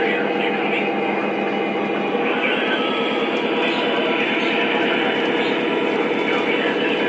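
A PRR Keystone train rolls out, producing a loud, steady rumble of wheels on rail with a rhythmic clatter throughout, heard close and continuous with no voices over it.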